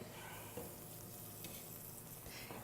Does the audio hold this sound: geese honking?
no